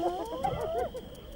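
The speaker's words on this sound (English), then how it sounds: "The hyena pup calls out." A hyena pup calling near its den, a few short, high, wavering whines and yelps close by against a quiet background.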